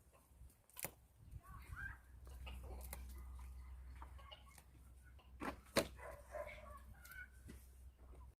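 Chickens cluck faintly in a quiet coop, short scattered calls with a few sharper isolated noises against a low hum.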